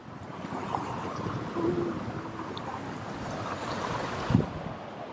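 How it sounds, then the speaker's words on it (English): A river running beside a flooded jungle pathway gives a steady broad wash of rushing water, with wind buffeting the microphone and faint movement noises over it. "We are fighting a raging river."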